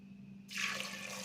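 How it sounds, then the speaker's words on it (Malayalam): Water is poured into a pressure cooker holding chickpeas, a close, sudden splashing pour that starts abruptly and continues steadily over a faint background hum. "കടല വെന്ത് കിട്ടാൻ ആവശ്യമുള്ള വെള്ളം ഇതിനകത്ത് ചേർത്താൽ മതി"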